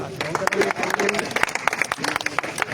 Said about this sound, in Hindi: एक मरतबा ज़ोरदार तालियां इरफान के लिए।